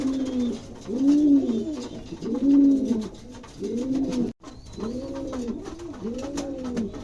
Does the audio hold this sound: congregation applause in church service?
no